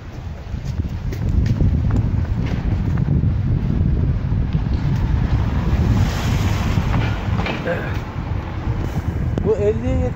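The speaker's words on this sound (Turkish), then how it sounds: "Lan havada rüzgarlı şimdi bu" Strong gusting wind roars across the microphone outdoors on a street, loud and continuous, with a brief faint voice near the end.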